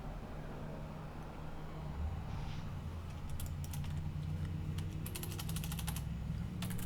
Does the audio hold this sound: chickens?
no